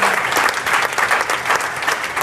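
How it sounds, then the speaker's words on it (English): Loud, dense applause from a crowd at a training event, close and continuous with rapid overlapping claps. "Could we give a massive applause to her"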